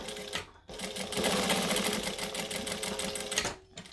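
A sewing machine runs in one steady, loud burst of stitching on a wallet, backstitching at the ends. It starts after a short pause and stops near the end, with no talk over it.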